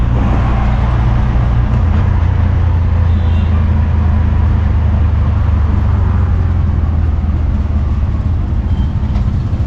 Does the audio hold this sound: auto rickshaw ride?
yes